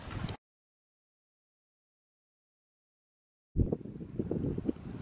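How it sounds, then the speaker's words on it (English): Gusty wind buffets the microphone beside the Ross River in Townsville after heavy rain, coming as low, rough rumbling bursts that break off into a long silent gap and then return. "Sorry for the wind, it's a bit windy down here after the big massive rain we got last night"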